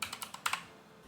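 Several quick, crisp keystrokes tapped on a computer keyboard, close and fairly quiet, in a short uneven burst that trails off into soft room hiss.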